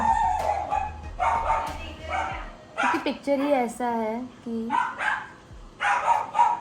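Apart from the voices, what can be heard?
pet dog barking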